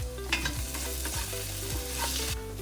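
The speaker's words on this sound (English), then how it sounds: "Onions are starting to brown. Time to add our garlic and some tomato paste" Browning onions with garlic and tomato paste frying in a pot for an Eritrean tomato sauce, a close steady sizzle with spoon stirs and light scrapes over a low humming background.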